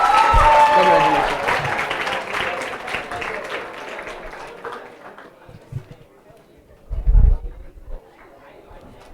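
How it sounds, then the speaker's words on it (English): A large audience at an evening award session of a coding hackathon breaks into dense, loud applause that thins out and fades, followed by quieter speech and a brief burst of noise near the end. "Keep clapping."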